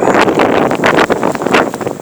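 Blizzard wind buffeting a microphone on a road in Bangor, Maine, a loud, continuous roar with gusty surges and rumbling low-end bursts, no voices.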